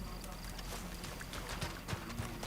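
Horse hooves clip-clop steadily in a Wild West video game, a continuous rhythmic trotting with a brief whinny-like accent near the end, mixed with background game sound and occasional voice.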